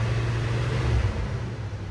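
A carbureted engine revving as the accelerator is slightly pressed, heard as a steady low rumble of the running engine up close with no talk.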